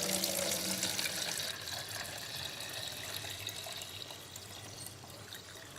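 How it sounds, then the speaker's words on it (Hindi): Soapy water with dissolved laundry detergent pours steadily into a container, a continuous splashing wash that eases slightly after the first second and runs without speech. "इस पानी को इस डब्बे में डालेंगे"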